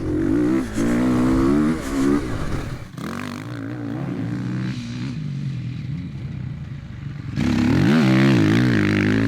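A motorcycle engine revs and pulls under a rider, loud and close, its pitch climbing and dropping through several throttle changes, with a quieter stretch in the middle before the power comes back on hard.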